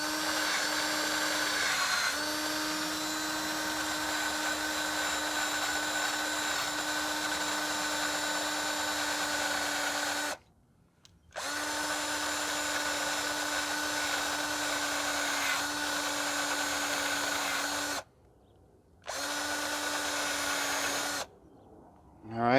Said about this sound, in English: I got my wire brush on my drill.